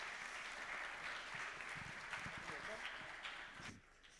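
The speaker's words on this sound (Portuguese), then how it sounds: "Vamos aplaudir o nosso reverendo." A church congregation claps for the reverend during a Lord's Supper service, a steady, dense wash of applause filling the room that fades near the end.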